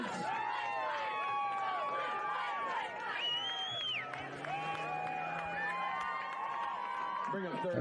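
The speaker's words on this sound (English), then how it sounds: "As the crowd is getting loud here" A home football game crowd on senior night grows loud, with cheering and shouting from many voices near and far, layered with whistling tones and lively chatter throughout.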